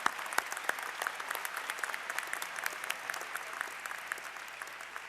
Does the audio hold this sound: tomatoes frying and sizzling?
no